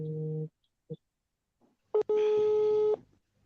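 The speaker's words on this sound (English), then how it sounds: "I think, Linda, your phone is ringing." A phone rings during a call, giving a short electronic tone, a brief blip, then a sharp click and a sustained ringing tone lasting about a second, clear and close with silence between.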